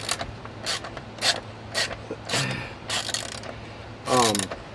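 Ratcheting and clicking from tools tightening bolts during a cooling fan replacement on a 2007 Ford Crown Victoria P71, heard as several short mechanical bursts at close range, the last one louder and longer, over a steady low hum.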